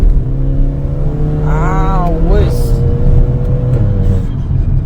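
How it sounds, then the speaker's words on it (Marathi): A heavy turbocharged car with a blow-off valve, engine droning loudly and close as it accelerates, a rising whine sweeping up mid-clip before settling back into the steady roar, with a brief exclaimed voice. "वयस ही कल्लो रे टर्बोचो आवाज येता."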